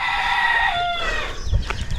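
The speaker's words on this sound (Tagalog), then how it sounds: "Ang gaganda ng manok ni Kuya Loni" A rooster crows loudly and close, a single drawn-out call that fades into softer clucks and farmyard shuffling from a flock of gamefowl.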